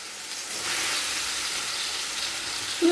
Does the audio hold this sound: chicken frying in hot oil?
yes